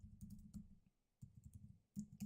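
Two quick bursts of typing on a computer keyboard, close and soft clicks with a brief pause between them.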